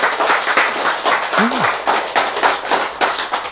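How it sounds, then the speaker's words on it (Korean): An audience at a church lecture breaks into applause, a dense, steady patter of many hands clapping at moderate loudness, with a brief voice heard over it. "박수."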